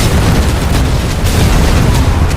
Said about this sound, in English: Oh, grenade launcher, thank God.